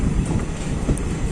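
Tutari Express train rolling steadily at close range, a continuous loud rumble of wheels and carriages with no voices.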